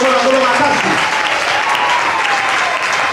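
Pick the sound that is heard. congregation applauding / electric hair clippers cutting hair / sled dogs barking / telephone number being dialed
congregation applauding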